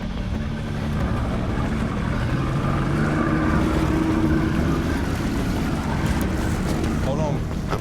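A motorboat's engine runs steadily at close range in open water, a continuous low rumble and drone that holds through the whole stretch without pause.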